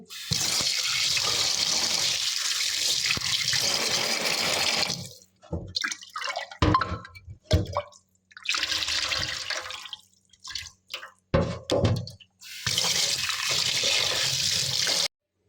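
Water poured from a tap into a vessel while washing homemade ghee, in several bursts of splashing flow separated by short pauses and drips.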